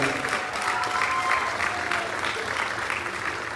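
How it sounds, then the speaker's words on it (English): Audience applause for a guitarón player at a Cholla High School summer concert: steady, dense clapping from a sizeable crowd that holds at an even level throughout. "So let's give him a round of applause."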